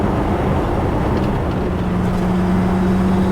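A constant, droning engine noise from inside a moving Mk1 Ford Escort Cosworth camper, with a steady turbo boost whine rising above the broad road roar and no voices.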